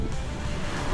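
Ocean waves wash in at Barceloneta beach in a brief, loud, steady roar of surf mixed with wind buffeting the microphone, with no talking.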